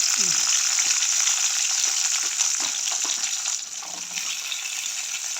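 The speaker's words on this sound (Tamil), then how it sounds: "அடுத்தது பார்த்தீங்கன்னு சொன்னால் வெங்காயமும் பூண்டும் வந்து போடுறோம்" Onion and garlic frying in hot oil for a fish curry, a loud, dense sizzle with scattered crackles and occasional stirring scrapes, steady and close throughout.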